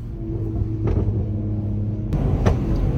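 Steady low engine rumble from inside a BMW 140i, with a mild rise in intake whoosh and a couple of faint clicks.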